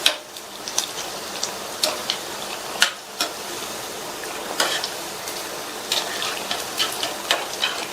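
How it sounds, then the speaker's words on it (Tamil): Bonda fritters frying in hot oil, a constant close hiss and bubbling sizzle with occasional sharper crackles and scrapes as the fritters are turned, no voices over it. "ஒவ்வொரு போண்டாவா பரட்டி பரட்டி விட்டுக்கலாம்."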